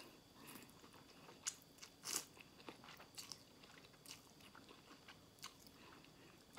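Someone eats Thai rice noodles with a canned fish curry close to the microphone, producing quiet chewing with scattered sharper crunchy bites and small clicks.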